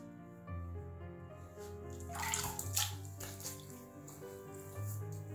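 Running water splashes steadily while shaving lather is rinsed from a face at a sink, with a brief louder burst of splashing midway; no talking.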